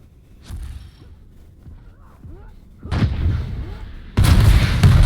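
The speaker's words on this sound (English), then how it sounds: "Oh, and the rockets is just so good." Rockets fire in a video game duel: a short blast near the start, then two louder bursts a few seconds apart, each followed by a booming tail over faint background game sounds.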